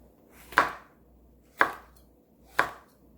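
Three crisp knife chops through red chili peppers on a cutting board, evenly spaced about a second apart, close and clear against a quiet background while preparing quick kimchi seasoning.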